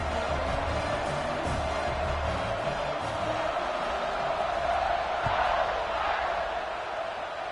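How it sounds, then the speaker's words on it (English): Football stadium crowd at a college game between Guys and Notre Dame, buzzing after a score: a loud, steady, broad roar of many distant voices with faint shouts rising now and then, continuous throughout. "this crowd is buzzing after that last score"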